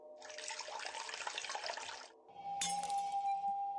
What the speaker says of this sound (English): And tip in some karmic water.